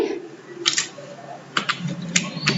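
Computer keyboard keys pressed as a shortcut combination in accounting software: a few separate clicks and clacks spread out in a short sequence, fairly close, with faint room noise and no talk.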